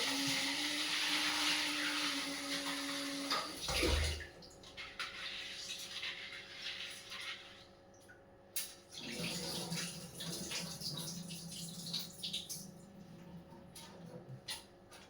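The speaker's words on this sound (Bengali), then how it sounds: "এখন একটুখানি ধুয়ে টুয়ে রাখবো" Tap water runs steadily into a bowl while food is rinsed before soaking. Splashing and sloshing follow as the water is swirled and poured off in uneven bursts.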